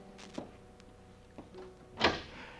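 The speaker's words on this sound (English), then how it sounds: "the sitting room door opened" A sitting room door in a 1949 radio drama opens, with a couple of faint creaks and clicks and then a louder latch-and-swing sound near the end, quiet and close.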